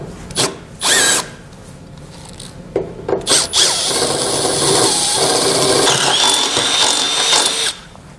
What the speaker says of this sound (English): we'll need to enlarge the holes using an 11/16 drill bit